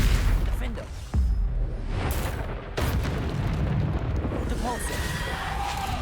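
Booming spell explosions from Bombarda casts in Hogwarts Legacy, a few heavy blasts and bursts landing amid continuous combat clamor, whooshes and other spell effects.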